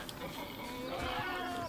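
Pigs in the video game Nightingale give a short, drawn-out animal call, bleat-like and fairly faint, heard alone without talking.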